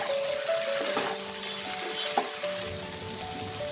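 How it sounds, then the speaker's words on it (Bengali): Fried pointed gourd and soy chunks being stirred with spices in a pan, a steady soft sizzle with light intermittent scraping, close and fairly quiet, no talking. "এই সময় আমি ভেজে রাখা পটল আর সয়াবিনগুলোকে দিয়ে দেবো, দিয়ে এগুলোর সাথে খুব ভালো করে মশলাগুলোকে মিশিয়ে নেব"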